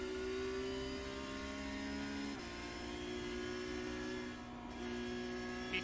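A Porsche Cup car in iRacing at the Nürburgring climbs through its gears, engine tone holding steady then dropping at a shift, a fairly quiet continuous whine and drone.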